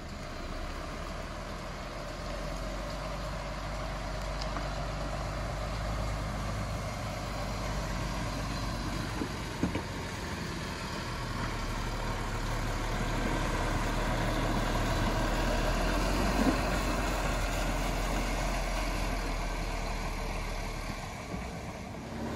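A Renault C440 construction truck engine drones steadily while driving on a rough track, a low continuous rumble with faint rattles, no voices.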